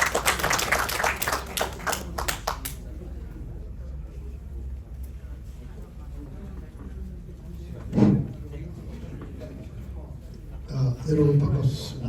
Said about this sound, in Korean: 박수로 맞이하겠습니다. 여러분 박수 부탁드립니다.